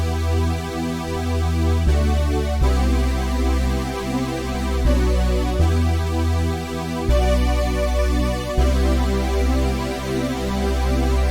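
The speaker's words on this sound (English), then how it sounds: "for my section B I use a Juno synth, which I use to make these chords" Sustained chords from a Juno synth, changing roughly every two to three seconds over a steady low pulse, play alone at moderate level.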